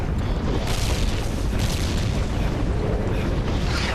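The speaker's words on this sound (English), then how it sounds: "Watch out for the barrels. Exploding barrels." Exploding barrels in the video game Zombies Monsters Robots, a dense, continuous rumbling boom filling the whole span with no clear breaks.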